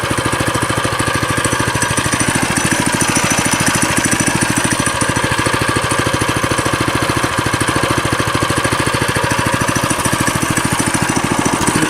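A Trailmaster MB200x mini bike engine idles close by with a steady, rapid, even putter that never changes pace and has no voices over it.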